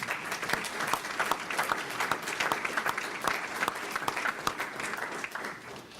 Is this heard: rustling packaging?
no